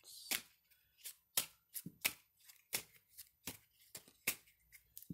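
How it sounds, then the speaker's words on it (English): Tarot cards being shuffled and pulled from the deck, a run of about a dozen quick, crisp riffling and snapping bursts close by with short pauses between them, and no one speaking. "I'm just going to pull a couple of cards."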